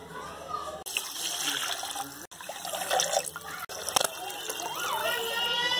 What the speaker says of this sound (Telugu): ఒక గ్లాస్ బియ్యం పోస్తున్నాం, ముందుగా నానబెట్టి ఉంచొద్దు, ఇప్పుడు వాష్ చేసుకుందాం